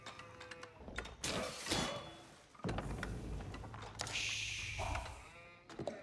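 Sheep bleat in the real-time strategy game Age of Empires IV during a ranked 1v1 Ottoman versus French match, short bleats mixed with clicks, game effects and a brief rising chime.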